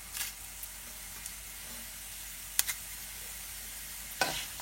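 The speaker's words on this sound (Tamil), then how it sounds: "சீரகம் ஒரு 10 செகண்ட்ஸில் பொரிஞ்சிரும்." Cumin seeds splutter in a hot pan over roasted dried chillies, coriander seeds and tamarind for spinach chutney, giving a faint steady sizzle broken by a few sharp crackles and pops close by.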